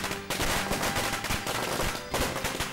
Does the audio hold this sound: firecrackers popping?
yes